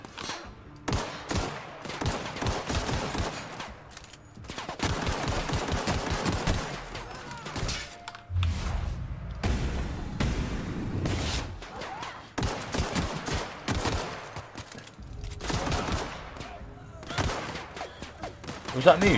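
Gunfire in the video game The Outer Worlds, with repeated bursts of rapid shots and heavy blasts in a loud combat exchange, broken by short pauses, while players talk over it.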